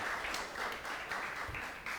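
Church congregation clapping during a service on a rainy day, with a moderate, somewhat uneven patter of applause from a modest crowd and a few louder bursts.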